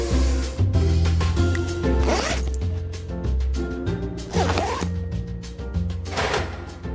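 A jammed school locker pried open with a pencil in the Cyanide & Happiness Freakpocalypse game, a series of clanks, rattles and metallic scraping over a steady musical background.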